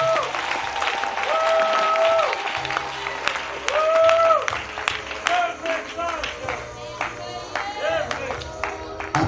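A church congregation applauding and cheering at a wedding anniversary celebration, steady clapping under loud music and voices throughout.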